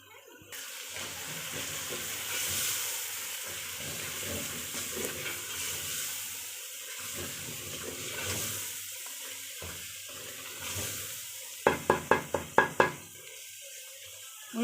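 Garam masala and curry powder cook in a pan with a steady, close sizzle that fades in and out, followed by a few sharp clacks near the end.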